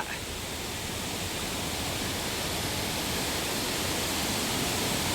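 Waterfall at Salango Temple Park in Malaysia, a dense, unbroken roar of falling water heard close up and steady throughout.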